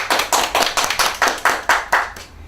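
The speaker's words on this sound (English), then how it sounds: "Come on, a round of applause, come on." Hands clap in a steady run of roughly nine sharp bursts at a graduation ceremony for CSEC results, fairly close and loud, with no talk over them.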